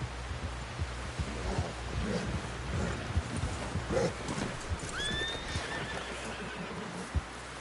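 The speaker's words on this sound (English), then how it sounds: "Someone help John down off this horse." A horse in Red Dead Redemption 2 whinnies once partway through while hooves clip-clop steadily on hard ground, moderately close, over a low background rumble.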